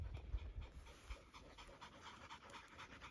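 Tired working dogs, used for bringing bulls in from the desert, pant rapidly and steadily in hot weather, close and fairly faint, with no talk.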